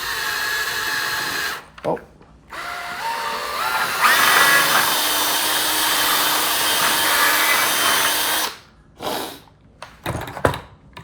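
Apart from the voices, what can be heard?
power drill drilling a hole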